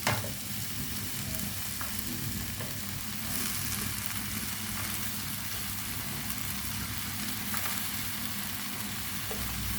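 Beaten egg and chopped chapati fry in a pan, a dense close sizzle under the steady scrape and clatter of stirring, with no talk.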